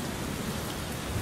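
Steady rain pours through the night in The Legend of Zelda, a continuous even hiss of drops close by with a low rumbling undertone and no voices.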